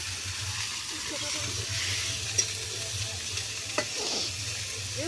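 Onions frying in a pan at an outdoor picnic cookout, a steady, fairly loud sizzle and hiss throughout with a couple of brief stirring clinks, and no talking.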